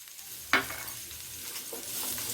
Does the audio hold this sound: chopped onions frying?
yes